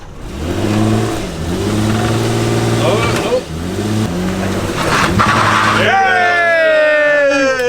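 A Toyota JZX110 Mark II in power mode revs loudly and close, its pitch rising and dropping over several pulls before a sharp climbing scream at the end, with people talking over it.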